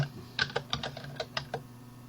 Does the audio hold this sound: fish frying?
no